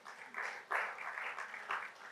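Audience clapping at a church revival meeting, a moderate spatter of applause that swells and fades in waves, a few louder bursts standing out, with no voices over it.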